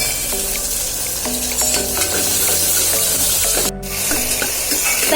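Tomatoes sauté with onion and green chilli in a pan for bottle gourd and chickpea kootu, a loud steady sizzle and stirring scrapes beneath melodic background music, with a brief dropout near the end.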